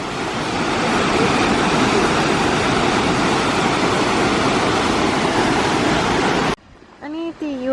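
An Icelandic waterfall roars in a loud, dense, unbroken rush of falling water close by. It cuts off abruptly near the end, and a person then speaks over quiet surroundings.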